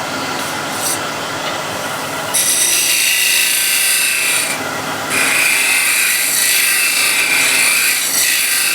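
A hand scraper works a small hump off a wooden surface, a continuous, close, gritty rasping that shifts in intensity across several long strokes, with no voices.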